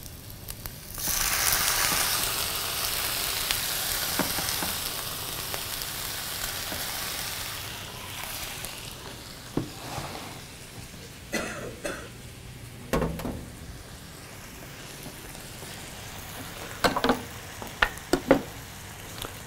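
Strips of beef stir-frying in a hot pan, a steady loud sizzle that swells early and then settles, broken later by sharp clinks and clatters of utensils against the pan.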